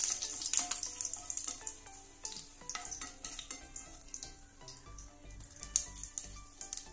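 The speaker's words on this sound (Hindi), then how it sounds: "ये सारी चीजें अच्छे से टटक जाएं तब तक हमें इसको अच्छे से फ्राई कर लेना है" Spices for a tempering sizzle and crackle in hot oil with steady popping and spattering, punctuated by occasional clinks of a utensil against the pan.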